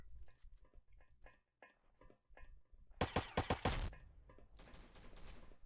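Gunfire in the online shooter Warmerise during a tournament match: a few faint scattered shots early on, then a loud burst of rapid automatic fire followed by a sustained stretch of noisy shooting.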